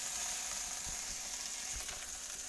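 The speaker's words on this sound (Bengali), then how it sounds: "দেখুন ভেড়িটা ভাজা হয়ে গেছে, কিন্তু আবার কড়াই একটুও লাগেনি।" Okra (bhindi) frying in a pan gives a soft, even sizzle, quiet and continuous, with a couple of faint low thumps and no speech.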